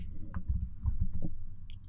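Scattered light clicks of keys being tapped on a computer keyboard while a command is typed, soft and close in a quiet room, with a faint low hum underneath.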